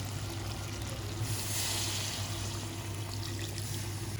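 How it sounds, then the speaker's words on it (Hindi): Water pours steadily into a cooking pot of potatoes and chicken for aloo gosht, a soft continuous trickle and splash heard close up, fairly faint, with no talk. "इसमें हम डाल देंगे पानी"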